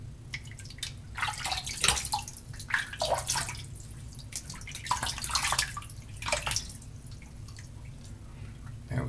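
Water splashed by hand onto the cheeks at a sink before a wet shave, a run of close irregular splashes and drips over several seconds, with no one speaking.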